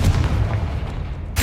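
Fire-spell explosion from the Confringo charm in the Hogwarts Legacy video game, a dense low booming blast sustained through the moment with a sharp burst at the end, loud and close.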